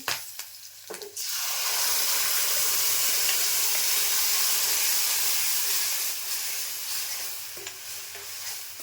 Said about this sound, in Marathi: आता मी ना टोमॅटोची प्युरी आहे ना ओतून घेते